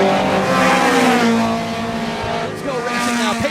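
Race cars on an oval track at an opening-day event roar through turns 3 and 4 on the final lap, a loud continuous engine drone with rising and falling pitch and some tire noise, under crowd and announcer talk.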